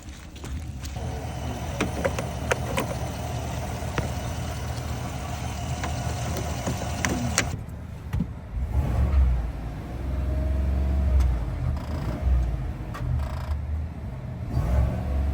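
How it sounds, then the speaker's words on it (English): A truck engine runs steadily, its low rumble shifting and swelling as the vehicle pulls away and drives off, loud and close with no talking. "Okay, I'll drive down."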